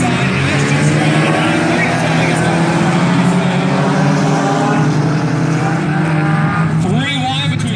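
Four-cylinder race cars roar around the dirt oval at Valley Raceway in a King of the Dirt final, with loud, steady engine drone from several cars and a commentator talking over the racing.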